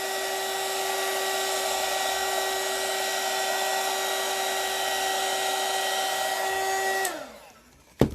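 A heat blower runs steadily at close range with a constant whine and rushing airflow for about seven seconds, then winds down and cuts off near the end.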